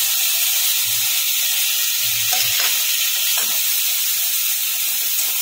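Loud, close sizzle and hiss of onion and garlic paste frying in hot oil, continuous throughout, with a few low thumps from the pan.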